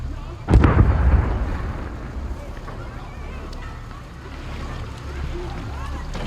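A boat in the video game Far Cry 6 rumbles with churning water and a burst of splashing near the start, then a steady low engine drone continues with game ambience.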